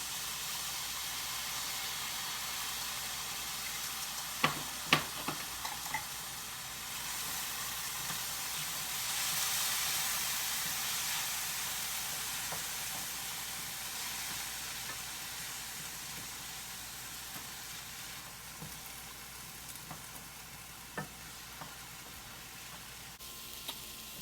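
Beef browning in a pot for stew gives a steady, moderate sizzle. A few sharp clicks of a utensil stirring and scraping the pot break through near the middle and again late on.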